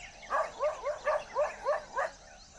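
A domestic dog barks repeatedly at a leopard, six sharp, evenly spaced barks close by in a steady rhythm, with no other voices.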